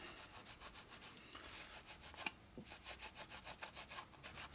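Hand rubbing on a Harley flathead motor part from a 1941 WL 45 stroker build, a steady back-and-forth scrubbing in regular strokes, fairly quiet and close, with no talk.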